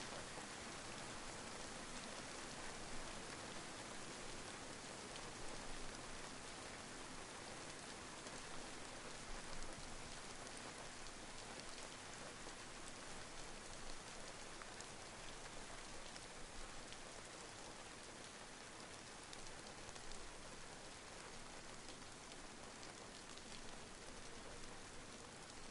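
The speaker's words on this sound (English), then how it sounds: "he enjoys watching the rain" Rain in the survival video game DayZ on PS4: steady, even downpour with dense pattering on surfaces, continuous and unchanging throughout, no voices.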